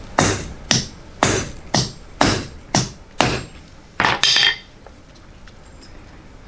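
Hammer blows on a 10mm 12L14 mild steel round bar ring out in a steady series of about nine loud metallic strikes, the last two close together, then the ringing stops and only quiet room noise remains.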